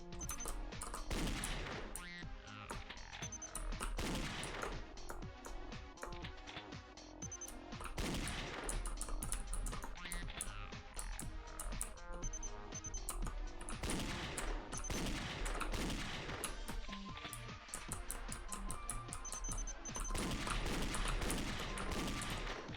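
Gunshots in the video game Danganronpa Another, a dense, continuous barrage of rapid shots over game music, steady and loud throughout.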